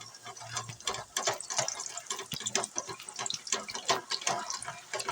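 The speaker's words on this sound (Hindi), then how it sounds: "आप देख सकते हैं सारी गुलाब जामुन हमारी भून गई हैं ऑयल में" Gulab jamun frying in hot oil in a pan that is shaken to turn them, giving a steady bubbling sizzle broken by scraping, rattling jolts as the pan moves, close and fairly quiet.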